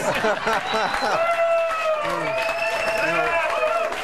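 A late-night comedy talk show studio audience claps and cheers, with whoops rising over the steady clapping, and a voice is heard talking at the start.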